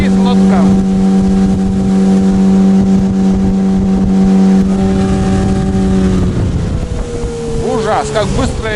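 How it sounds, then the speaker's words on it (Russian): A motorboat with a Mikatsu 9.8 outboard motor runs fast on the water, a loud steady engine drone with strong wind buffeting the microphone, the pitch dipping near the end as splashing rises. "Просто летит лодка."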